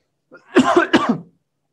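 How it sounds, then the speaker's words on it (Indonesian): A short burst of two or three close, loud coughs from one person, with a small throat sound just before. "Aduh, maaf, batuk dulu."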